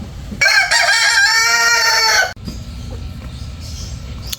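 A three-month-old Philippine native Darag chicken crows loudly and close, one sustained call of about two seconds, then softer clucking and faint background noise follow.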